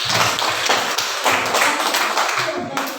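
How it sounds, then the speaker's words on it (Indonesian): Schoolchildren in an elementary classroom clap together in a quick, steady rhythm, close and fairly loud, with a few thumps and young voices mixed into the beat for about three seconds. "kasih tepuk tangan lagi dong"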